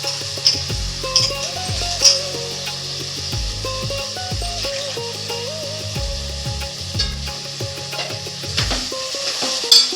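Taro roots fry in oil for an old-style tamarind and tomato stew, giving a steady sizzle beneath melodic background music, with a few soft knocks and clinks.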